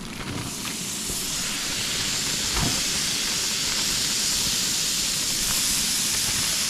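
Pot of rice and vegetables boiling on a camp stove at a state park campsite: continuous loud hissing roar of the burner and bubbling, steady throughout with no talk.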